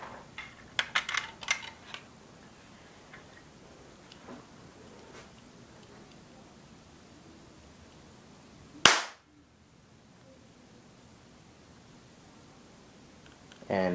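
An airsoft cap gun loaded with a .22 shell fires once, a single sharp loud crack followed by a near-silent pause, with faint handling clicks and rustles before it.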